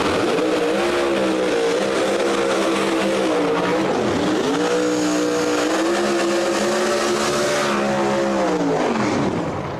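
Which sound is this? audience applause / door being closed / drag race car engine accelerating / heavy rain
drag race car engine accelerating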